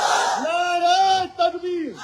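A rally crowd at an election public meeting shouts back the Naara-e-Takbeer slogan in a loud, sustained massed cry lasting about two seconds, its voices swelling together and dipping briefly near the end.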